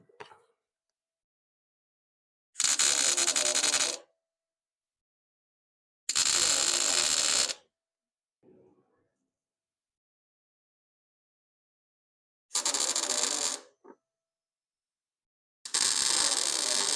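Tack welding on a UTV bump seat bracket, four separate bursts of loud crackling hiss of a couple of seconds each, with short silent gaps between them and faint handling noises.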